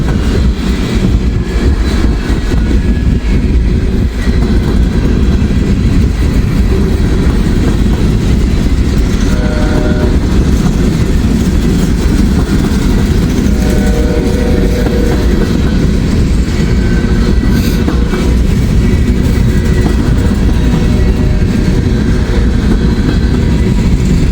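A southbound intermodal freight train rolls past close by, a loud continuous rumble of heavy wagons with rail clatter and faint squeals layered over it, steady for the whole stretch.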